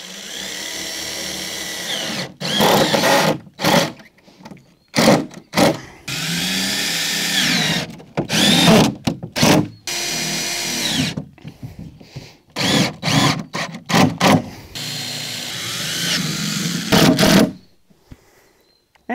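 A power drill drives screws into a wooden feed bunk frame built with barrel halves, in repeated bursts of whirring, each a second or two long, separated by short silences, loud and close.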